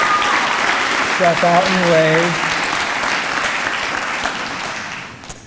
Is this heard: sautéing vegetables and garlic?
no